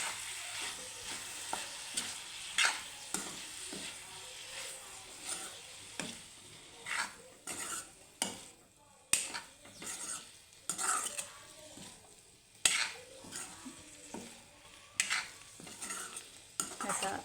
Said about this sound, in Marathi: मिक्स करूया